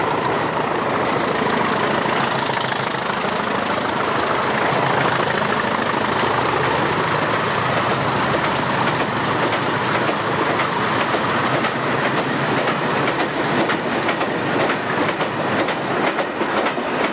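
A diesel-hauled coal train of empty wagons, hauled by Class 20 locomotives, rumbles past steadily, engine drone and wagon clatter filling the whole stretch at close range.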